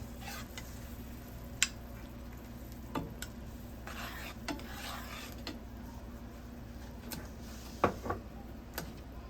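Gravy being stirred in a pot for a fried king fish meal with dumplings, banana and yam: soft scraping and light ticking taps against the pot under a steady low sizzle, with a few sharper clinks.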